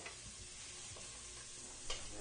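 Onions cook down in bacon fat in a pot for fish chowder, a steady soft sizzle with a few faint stirring scrapes and knocks, close by and without talk.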